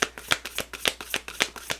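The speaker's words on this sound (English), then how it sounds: "back up a little bit to shuffle these" Tarot cards being shuffled by hand, a close, quiet series of about eight rhythmic riffling snaps at an even pace.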